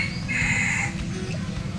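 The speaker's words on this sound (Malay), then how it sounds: "bapak ayam ni kuat pun" A rooster crows loudly and close by in a mini zoo enclosure, one drawn-out call over a steady background murmur, followed by softer clucking.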